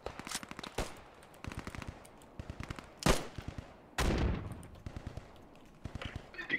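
Gunfire in the World War II shooter Post Scriptum comes as rapid machine-gun bursts mixed with single rifle shots and a few louder, heavier blasts, all fairly distant and echoing, with no talking.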